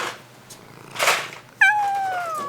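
A little shop cat in a car tuning workshop gives a loud, close, drawn-out meow after some quieter rustling, the cry sliding downward in pitch.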